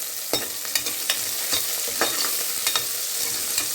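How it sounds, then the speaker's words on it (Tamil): Onions and slit green chillies fry in a pan for a wedding-style mutton gravy, a steady close sizzle punctuated by regular scraping spatula strokes. "கண்ணாடி பதம் வரைக்கும் வரட்டும். அதுக்கப்புறமா நம்ம வந்து பச்சை மிளகாய் சேர்த்துக்கலாம்."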